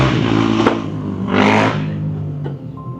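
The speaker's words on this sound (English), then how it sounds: "just like that loud car that just passed by" A loud car passing close by, its engine roar swelling to a peak and then fading away over a few seconds, with a low steady hum behind it and no talking.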